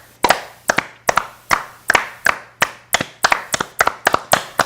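Hands clapping in a steady, even rhythm, about a dozen sharp claps close by, performed alone during a relaxed guided energy exercise done while sitting.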